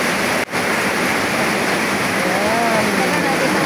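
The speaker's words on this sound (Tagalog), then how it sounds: "Malakas yung ulan." Heavy rain pours down in a rural farming area, a loud, dense and unbroken roar that fills the whole space, with a brief voice near the start.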